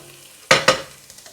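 Garlic sizzles in a pan for a shakshuka, with two sharp bursts of spattering frying close by, then a faint low simmer.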